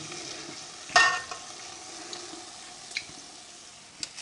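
Homemade American-style donuts fry in hot oil with a faint, steady sizzle, punctuated by a few sharp clicks and knocks of utensils against the pan.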